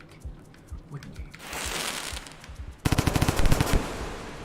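Rapid bursts of explosions in the Rain World video game, Hunter mode, a crackling popping barrage in quick succession that swells louder in the second half, heard close with no speech.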